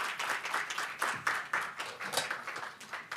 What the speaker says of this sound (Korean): 우리 김민영 자매 나오실 때 박수로 맞아주셨으면 좋겠습니다